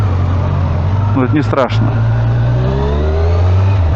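A Kawasaki motorcycle engine runs with a steady, low, close drone as riders set off in North Rhine-Westphalia, and someone speaks briefly over it.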